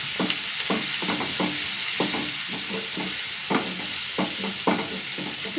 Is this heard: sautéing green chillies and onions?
yes